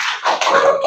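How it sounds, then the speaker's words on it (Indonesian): A classroom of students applauds for a presenting group, a dense burst of clapping that dips briefly and then continues steadily at close range. "tepuk tangan untuk kelompok 2"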